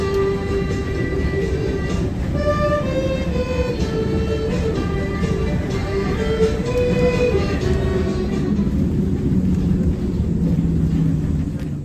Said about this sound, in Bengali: পম্পেই থেকে এখন আমরা ট্রেনে করে যাব নাপোলির আরও একটি উপদ্বীপ অঞ্চল সরেন্টো।